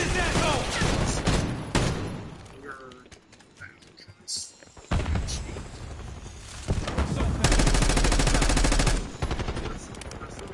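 Call of Duty Black Ops multiplayer gunfire: loud rapid automatic bursts open the scene, then a quieter gap with scattered shots, then heavy sustained firing returns and runs to the end, with voices partly mixed in.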